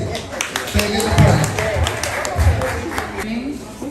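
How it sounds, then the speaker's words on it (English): Audience at a Medical Records Week symposium claps briefly, a loose patter of hands mixed with overlapping talk and crowd murmur close by. "Clap up, please."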